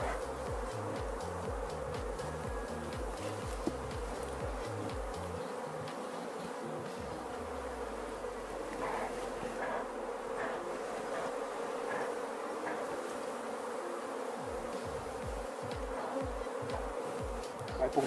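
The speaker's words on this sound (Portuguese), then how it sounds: "Colocar o máximo de abelha que a gente conseguir aqui pra dentro, né?" A dense, steady drone of honeybees buzzing close by while workers move bees into a box during a hive split. The hum continues without a break throughout, and there is no clear speech.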